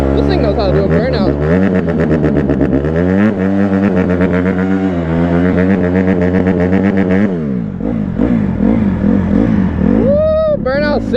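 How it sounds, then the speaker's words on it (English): Honda CRF150RB dirt bike doing a burnout, the engine held at high revs with a loud, steady buzzing roar, then dropping and blipping up and down near the end. "Woo, burnout city, bro."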